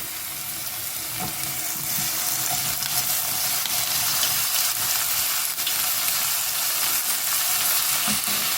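Steady, loud sizzling and crackling of chopped tomatoes sautéing in a hot pan for a soya chunk and potato kurma, continuous throughout with faint clinks of stirring.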